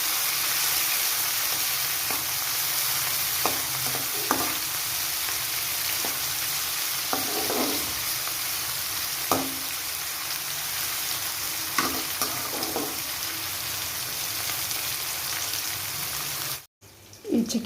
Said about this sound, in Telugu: టమాటా వేసుకొని ఇది కూడా ఫ్రై చేసుకోవాలి మొత్తం అందులో